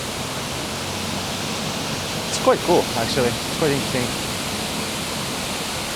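A waterfall in a European city rushes as a steady, full wash of noise for the whole stretch, with a person talking briefly over it near the middle.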